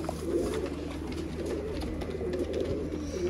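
Several pigeons of the Sialkoti, Golden and Teddy breeds coo continuously nearby, their soft, throaty calls overlapping in a low rolling murmur.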